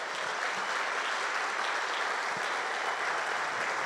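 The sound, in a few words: church congregation applause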